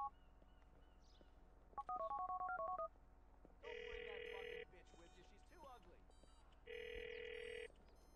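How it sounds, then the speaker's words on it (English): Telephone sounds from the video game GTA IV: a quick run of keypad dialing tones, then two separate electronic ring bursts with a pause between them, clear and close over a quiet background. "You've got to call him and keep a lookout for someone answering a phone."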